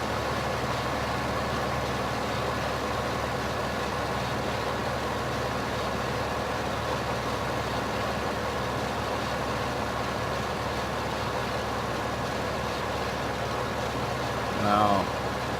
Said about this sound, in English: This is one of my bigger tractors.